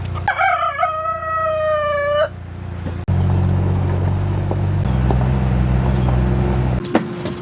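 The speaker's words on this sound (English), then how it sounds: "Morning, chickens." A rooster crows loudly up close on a farm, followed by a low combine engine rumble and faint background clucking of chickens.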